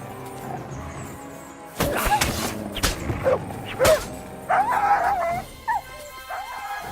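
In the video game Kingdom Come Deliverance 2, a dog is accidentally struck by the player, giving a thwack followed by several sharp yelps and whimpers close by.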